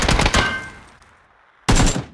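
Gunfire from the battle-royale shooter PUBG: a loud, rapid burst of shots that fades into a short silence before a second sharp volley.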